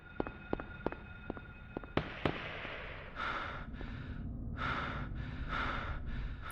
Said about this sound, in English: Also, I think that was gunfire.